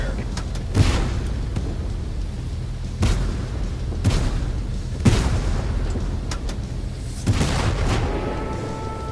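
Tank cannon fire and explosions rumble in the TankForce tank battle game, with heavy booms landing at intervals of about two seconds over a constant engine drone, loud and close.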